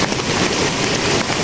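Heavy rain pours down steadily at a farm during a thunderstorm, a dense, continuous hiss that stays loud and even throughout with no talking.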